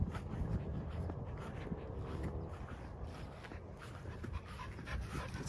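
A dog pants steadily up close, with soft rustling and movement around it and no voices.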